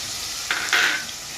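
Sliced onions fry in a pan with a paste of ginger, garlic and garam masala, giving a close, steady sizzle with two brief louder hissing surges as the mixture is stirred.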